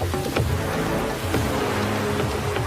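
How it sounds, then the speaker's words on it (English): Dense, steady roar of torrential rain, broad and unbroken, with a few sharper splashes and a low rumble underneath. "torrential rains ravage lands in South America"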